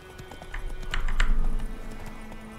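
Horse hooves in The Witcher 3 video game speeding up to a faster gait, rhythmic clip-clop thuds rising in loudness mid-clip over soft game ambience.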